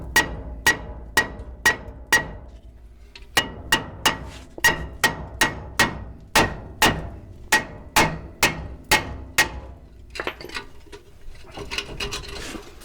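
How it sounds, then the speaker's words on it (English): A small hammer beats repeatedly on the rear brake of a Nissan Titan pickup, sharp metallic strikes in quick, uneven bursts of several blows with short pauses, close and loud, followed by softer scraping and rattling. "So we'll try the small hammer first."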